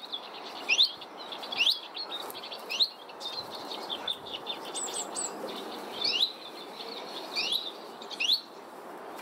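A small bird caught during bird ringing gives repeated sharp, high chirps at regular intervals, close and clear against a soft background hiss, with no talking.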